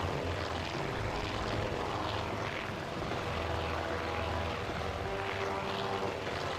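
Dive bomber aircraft engines in the carrier battle game Task Force Admiral give a steady, dense propeller drone that holds at an even loudness throughout, with no talk.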